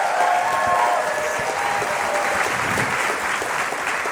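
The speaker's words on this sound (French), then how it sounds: "j'aimerais ça qu'on les applaudisse, tout le monde qui sont sur Internet" A live studio audience on a Quebec television gong show applauds steadily, a dense even wash of many hands clapping at once that holds its level throughout with no voices on top.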